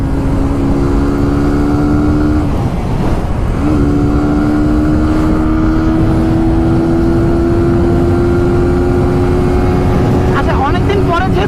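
A 150cc motorbike engine holds a loud, steady drone close by, dips briefly, then climbs again in pitch through a revving pull, with voices faintly mixed in.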